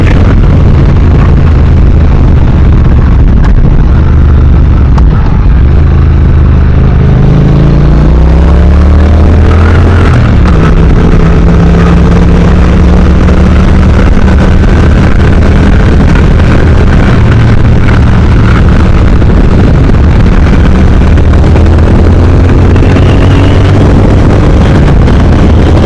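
A Triumph Thruxton R motorcycle engine held at a steady 5,500 RPM while riding, a loud continuous drone under heavy wind rush with slowly shifting pitch throughout.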